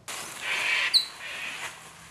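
Birds chirp and call in an Australian forest amid a soft hiss of ambient noise, with one bright, sharp tweet standing out briefly.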